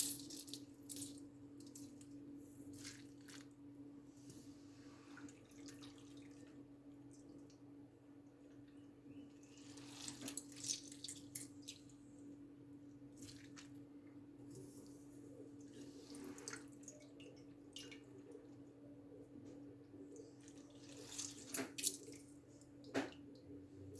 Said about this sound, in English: now all you need to do is to squeeze out as much of the excess moisture